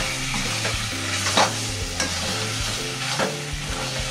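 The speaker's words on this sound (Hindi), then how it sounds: "और अब हम राजमा डालते हैं इसमें और इसे मिलाएंगे।" Kidney beans are stirred into cooked tomato masala in a pan, with a continuous sizzle and repeated soft scraping strokes of a spoon, close and fairly quiet.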